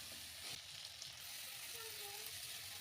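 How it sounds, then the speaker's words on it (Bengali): Cut potatoes frying in a cooked-down spice masala hiss with a steady, close sizzle and occasional light stirring, no voices. "তারপর দিয়ে দিয়েছি আমি কেটে রাখা আলুগুলো, প্রায় 5 মিনিটের মতো আমি আলুগুলো রান্না করেছিলাম।"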